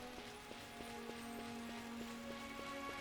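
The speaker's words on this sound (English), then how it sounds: "It's the weirdest sounding rain I've ever heard." Odd, unnatural-sounding rain in Final Fantasy XII: a steady wash of patter paired with a regular, tonal ticking pulse, heard on its own with no voices.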